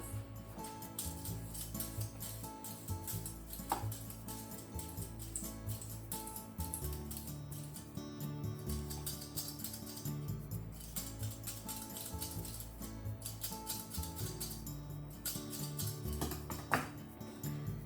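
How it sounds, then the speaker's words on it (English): Potatoes being peeled and cut with a knife for okaka potato, giving a steady run of soft scraping and tapping strokes close by, with no talking. "Let's peel and cut potatoes."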